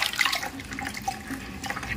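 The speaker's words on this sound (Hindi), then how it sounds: "अब चलते हैं पोछा करते हैं। देखिए हम पानी लेके आ गए हैं" Water is sloshed and splashed about while being prepared for mopping a floor, with brief, close, uneven watery splashes and drips.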